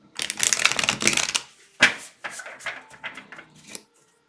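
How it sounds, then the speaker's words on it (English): Divination cards shuffled quickly by hand close to the listener, with a dense run of riffling followed by several shorter bursts of shuffling. "Let me just finish shuffling really quick, guys."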